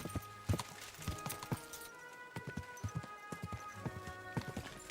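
Horse hooves clop steadily over ground in Kingdom Come: Deliverance 2, a brisk rhythmic walking beat of close, crisp impacts with faint ambient background.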